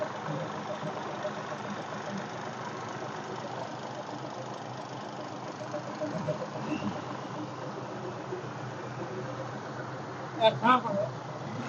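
A Hino P11 330 horsepower engine idles with a steady, rough low rumble that continues evenly, heard at moderate level with a couple of brief louder knocks near the end.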